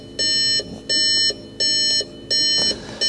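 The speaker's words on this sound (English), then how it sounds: "Is it going to stop beeping?" An insistent electronic warning chime from an Audi S1 with a replacement wiring loom beeps in a steady repeating rhythm, four evenly spaced bursts, loud and close.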